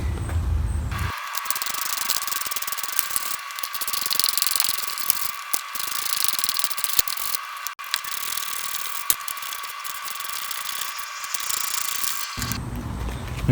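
A ratchet wrench clicks rapidly and continuously while removing strut tower bolts on a car, with loud close-up ratcheting that has brief pauses between runs.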